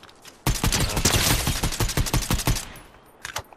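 Rapid automatic gunfire in a video game, a dense loud burst of shots lasting about two seconds before tapering into a few scattered cracks, with no talk over it.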